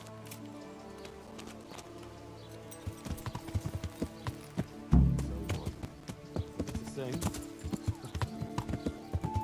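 Horse hooves clip-clop in the medieval game Kingdom Come: Deliverance, an irregular string of sharp hoof knocks at a walking pace with a brief heavier thump midway and a short spoken remark over the footfalls.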